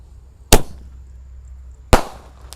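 Two sharp, loud bangs from sonic boom firecrackers fired from a launcher, about one and a half seconds apart, each a crisp crack with a short echoing tail against a quiet outdoor background.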